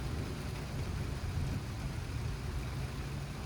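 Heavy rain roars steadily and broadly during a windy lightning storm, with a deep low rumble of thunder or wind underneath, continuous and close with no voices.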